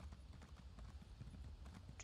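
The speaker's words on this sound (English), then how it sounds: "There we go. Back on my horse." Horse hooves clip-clop steadily in The Elder Scrolls Online, a quick regular trot of muffled thuds that stays close and moderately loud through the whole moment with no talking.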